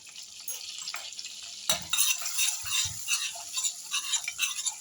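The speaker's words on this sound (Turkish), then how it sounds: "Şöyle karıştırıyorum" Spoon stirring melted butter with red pepper powder in a pan on the stove, a steady soft scraping and sizzling with a few louder clinks of utensil against the pan.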